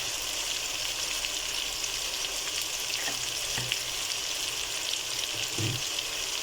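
Cumin powder and turmeric frying in hot oil in a pot, giving a steady, close hiss of sizzling that runs throughout, with a few soft stirring knocks partway through.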